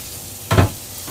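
Meat searing in a hot pan gives a short, loud burst of sizzle that swells and fades within a second, set against quiet kitchen background.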